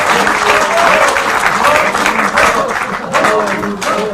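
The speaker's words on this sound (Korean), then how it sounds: "특히 두 분에게는 박수 한 번." Audience applause at a Korean political party gathering, honoring two lawmakers: dense, steady clapping from a large crowd, near and loud throughout, with a few faint voices mixed in.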